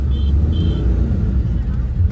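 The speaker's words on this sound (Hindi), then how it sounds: "क्या ट्रैफिक है यार" Night road traffic heard from a vehicle, a constant loud low rumble of engines and tyres with faint high tones near the start.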